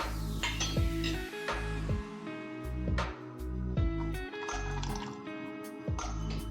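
Lemon juice poured into dissolved sugar syrup while making pan masala sharbat at home: a continuous close liquid trickle and splash, with light clinks of a utensil.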